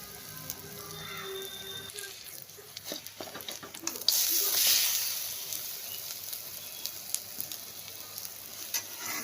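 Onions frying in hot oil for a lentil fritter curry, a quiet crackle that swells into a louder, steady hiss midway, with occasional clicks of a utensil.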